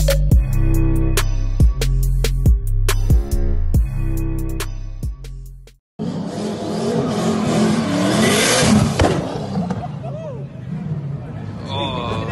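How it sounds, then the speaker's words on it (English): Race car engine at a drag racing event revved hard to warm it up, loud harsh roaring with crowd noise and talk, following a stretch of music. "I'm revving it, trying to get it warm"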